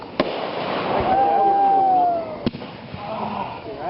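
Backyard fireworks explode outdoors with two sharp bangs, a rising whistle between them, and crackling, while people talk nearby.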